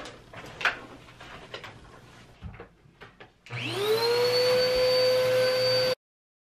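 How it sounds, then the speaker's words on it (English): A vacuum cleaner cleaning a rug switches on after a few seconds of faint shuffling and clatter, its motor whining up into a loud steady roar that runs for a couple of seconds before cutting off abruptly. "I'm actually going to vacuum all this right here, this rug, and vacuum over here."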